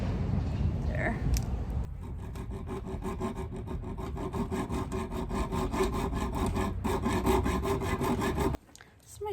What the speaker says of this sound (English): This is my first time using a hacksaw and cutting a metal rod, and it's very hard.